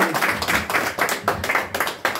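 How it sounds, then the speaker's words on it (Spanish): Strong clapping from guests at a birthday party with a mariachi band, a loud burst of hands that swells and dips in uneven pulses, with no music playing. "Ese aplauso fuerte."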